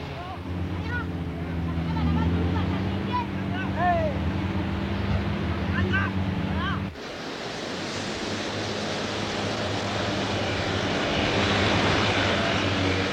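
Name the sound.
Catalina flying boat aircraft engine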